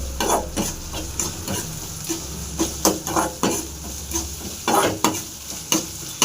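Ginger paste and curry leaves frying in a pan for a chutney, a steady close sizzle with repeated sharp scrapes and clacks of a spoon stirring.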